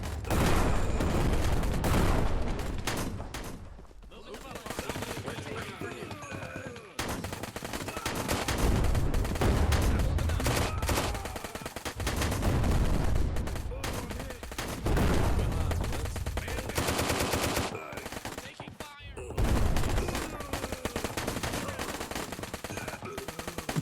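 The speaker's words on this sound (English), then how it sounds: "And look at all those explosions." Dense, relentless gunfire and explosions from the VR shooter game Plastic Battlegrounds fill the whole stretch, with rapid automatic bursts and heavy booms overlapping loudly with only brief dips.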